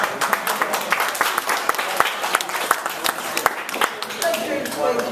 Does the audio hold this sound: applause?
yes